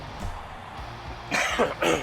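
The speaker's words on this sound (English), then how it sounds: "excuse me again for coughing" A man coughs and clears his throat several times in quick, loud bursts, close up, with a low game-audio rumble of monster trucks racing an arena course beneath.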